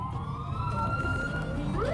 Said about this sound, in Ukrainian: Патрульні перевіряють, чи пропускають водії карету швидкої з увімкненими проблисковими маячками і сиреною.